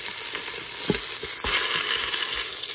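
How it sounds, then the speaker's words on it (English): Pieces of beef sear in a hot pan, a loud, dense, continuous sizzle up close with a few soft knocks as the meat is turned, and nobody speaking. "We're just trying to sear it a little bit."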